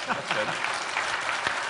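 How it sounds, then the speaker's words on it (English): A forum audience claps in a steady burst of applause throughout, with a voice speaking briefly over it. "go ahead and give yourself some applause"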